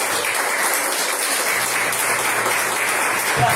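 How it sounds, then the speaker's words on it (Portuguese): Congregation applauding in a church during a Portuguese-language sermon, a continuous wash of many hands clapping at steady volume, heard alone without speech. "Glórias a Deus, aplauda o Senhor Jesus."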